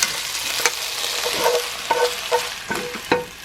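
Garlic chicken stir-frying in a pan, a continuous sizzle broken by sharp scraping and clanking strokes of a utensil against the pan, close and fairly loud.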